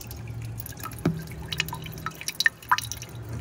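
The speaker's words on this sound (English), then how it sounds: "as long as there's something dripping on the back end, that rock wool is going to soak it up" Water drips in a homemade hydroponic vertical grow tower onto rock wool: a handful of separate, close drops fall at irregular intervals over a low, steady hum.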